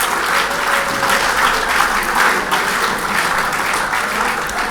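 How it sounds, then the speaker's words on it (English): An audience claps steadily for inductees at a 2025 BFNL Hall of Fame ceremony, a dense wash of applause that holds at an even level from start to finish. "could we have a round of applause"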